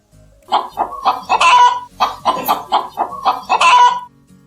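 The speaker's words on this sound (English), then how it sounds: "In English we say hen, hen." Hen clucking loudly and close in two rhythmic bursts of rapid, repeated clucks separated by a short pause, with no voices over it.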